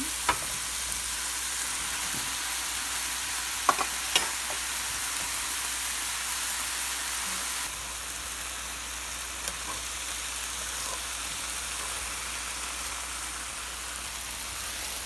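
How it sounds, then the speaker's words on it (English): Luffa cooking in a pot gives a steady, even sizzle and hiss for the whole stretch, with a few faint clinks as it is stirred in. "I'm going to stir this in."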